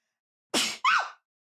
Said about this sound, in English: And sneezing.